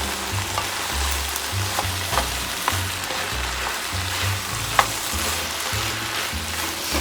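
Pasta bake with a sprinkled paprika and flour mixture stirred in a hot pan, giving a steady, close sizzle with soft scraping strokes and occasional clicks throughout, and no voices.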